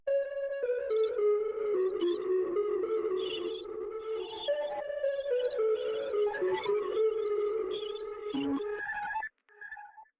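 A synth pattern run through the Portal plugin comes out warped, reversed and pitched up as shimmering, pulsing tones that glide and stutter for about nine seconds before tailing off.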